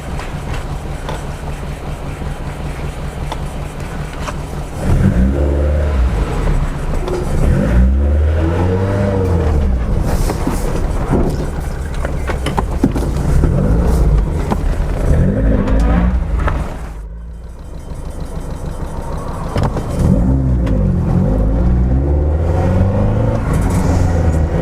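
A Lotus Elite's engine revs and pulls through rising gears on a short shakedown drive, loud and close with repeated swelling sweeps, a brief dip as the throttle lifts, then building again.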